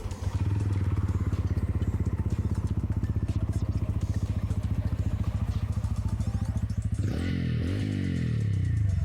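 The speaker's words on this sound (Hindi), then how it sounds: "टीवीएस रॉनिन को मैं ऑन करके आपको सुनाता हूँ फिलहाल।" TVS Ronin motorcycle idling after start-up: a loud, close, steady thumping exhaust pulse running for several seconds, then a couple of quick throttle blips rising and falling.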